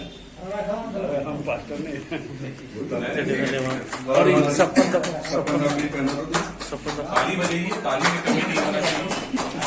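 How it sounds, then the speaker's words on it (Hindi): At a fifth-anniversary celebration gathering, people clap in a dense, growing patter that continues under steady talking. "ताली बजाते हुए रहिए"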